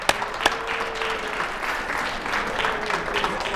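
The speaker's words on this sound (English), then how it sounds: "a big hand of applause" Audience applause at the opening ceremony of a national coin and money show, steady dense clapping from a large crowd in a hall, sustained and moderately loud throughout.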